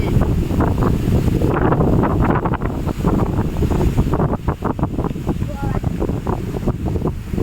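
Storm wind gusting over a river in the Sundarbans, a loud, continuous roar of buffeting air and rushing water close to the microphone, with no clear pauses.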